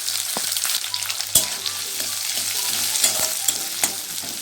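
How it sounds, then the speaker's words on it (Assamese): Chopped onions frying in hot oil in a wok, a continuous sizzle with scattered clicks and knocks from stirring, close and clear with no talking. "তেলখিনি গৰম হৈছে, মই ইয়াত যিখিনি কুটি থোৱা পিঁয়াজখিনি মই দি দিছোঁ"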